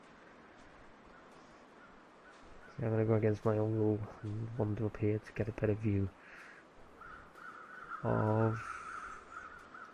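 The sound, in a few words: crows cawing in the video game The Long Dark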